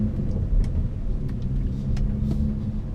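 A BMW 340i with a six-speed manual cruises along, its low engine and road rumble steady and close, with no talk over it.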